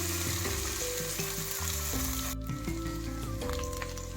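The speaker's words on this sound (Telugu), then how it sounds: "పచ్చిమిర్చి వేసుకోవాలి కొంచెంసేపు వేగనిద్దాం" Green chillies for rice upma fry in a pan with a bright, constant crackling sizzle, close and fairly loud, mixed with background music and no speech.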